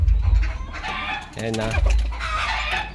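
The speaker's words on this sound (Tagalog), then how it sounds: "ang ingay ng mga manok." Several laying hens clucking nearby, with a brief voiced utterance and low background rumble.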